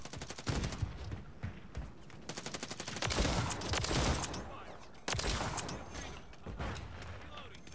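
Rapid bursts of automatic gunfire and single shots crack through a first-person shooter match in hardcore mode, dense and loud in clusters with brief gaps, while a voice talks over the action.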